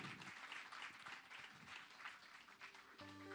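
An audience claps at the launch of a social enterprise academy, producing steady, quiet applause for several seconds before a musical tone enters at the end.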